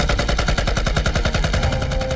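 Machine gun fire in a war drama set during the Eighth Route Army's ambush of Japanese troops: a loud, continuous rapid burst of rhythmic shots lasting about two seconds, with no voices.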